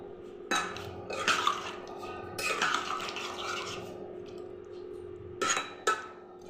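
Fried paneer tipped into a pan of cooking masala gravy, giving scattered clinks of utensils against the pan and soft wet stirring over a low steady hiss, close by, with no talking.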